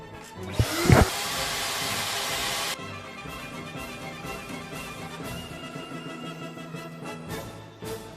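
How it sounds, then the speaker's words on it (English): A power drill bores holes through a titanium RC car chassis, giving a loud, harsh whirring burst of about two seconds that rises in pitch, then drops to a quieter, steady mechanical hum. "we're going to have to drill a couple of holes in the chassis here just to get these two screws in"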